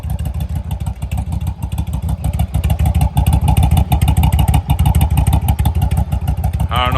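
A Yamaha V-Star 1100 Custom motorcycle engine fitted with Cobra slip-on mufflers idles loud and close with a deep, lumpy, pulsing exhaust rumble that continues throughout.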